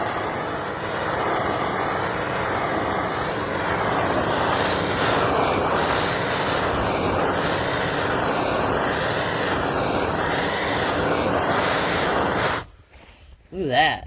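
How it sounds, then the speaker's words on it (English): A propane torch flame roars loud and steady against a piece of wood as the wood is burned. The roar continues nearly unbroken, then cuts off abruptly near the end. "I got my dad's propane torch, and I got this little axle, so I'm gonna prop up the piece of wood, and I'm gonna wood burn it."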